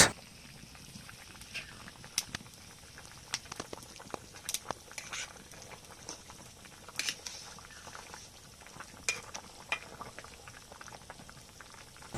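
Chunks of taro (mankachu) and fried fish bubble softly in a covered pot, with a faint steady simmer broken by scattered small pops and clicks, and no voices.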